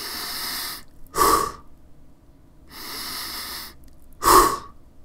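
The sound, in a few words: person imitating happy cat breathing, long inhale, accented exhale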